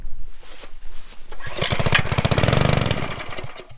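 A fire hose water pump's small engine cranks and catches, then runs with a steady rapid mid-pitched putter that grows louder and fairly close before easing slightly.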